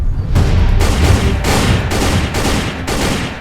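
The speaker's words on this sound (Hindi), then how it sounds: "मेरे पीछे फायर करो, सामने फायर।" Sustained gunfire in an Indian army combat scene, with repeated bursts of shots and booms running continuously at close range and loud, with no talk over it.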